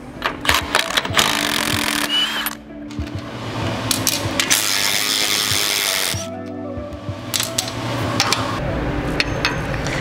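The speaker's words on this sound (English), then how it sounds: "I'm just going to take these two bolts out." A 15/16 socket wrench ratchets and clicks while bolts are removed from a Kage SnowFire snow plow, close mechanical scraping and clanks in uneven bursts with short pauses.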